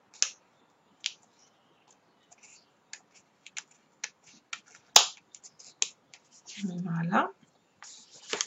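Cutting plastic lace trim with scissors, a series of sharp separate snips spaced unevenly close to the microphone, with a brief voice speaking near the end.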